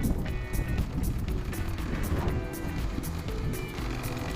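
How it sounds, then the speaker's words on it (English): Strong wind gusting along the Dorset coast between Bournemouth Pier and Sandbanks: a constant, heavy rumbling roar buffeting the microphone, loud and close throughout, with faint higher tones mixed in. "And the wind picks up again"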